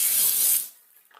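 Water rushes through a Torbeck toilet fill valve in a strong, bright hiss that cuts off abruptly partway through, leaving a faint trickle.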